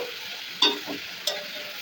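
Spoon stirring a tomato and onion masala frying in oil in a pan, a soft sizzle with two brief scraping strokes, close and alone.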